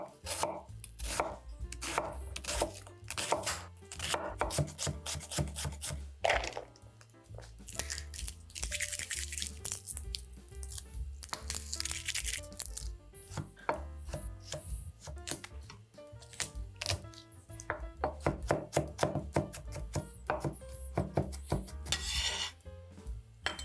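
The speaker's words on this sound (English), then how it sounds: "Next up, we are going to dice an onion and mince up some garlic." A knife dices an onion and minces garlic on a cutting board, giving quick, steady chopping taps close up with brief pauses and no talking.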